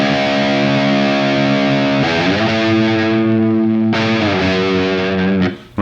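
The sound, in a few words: bass part of a song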